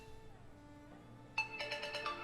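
A phone ringtone sounds after being triggered from a Bluetooth tracker app, a bright repeating electronic ring that starts suddenly partway through after a faint tonal hum, close and clear.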